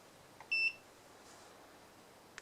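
A single short, high electronic beep from an MS2108A multimeter and AC/DC clamp meter on continuity test, clear but brief over quiet background hiss, followed by faint clicks.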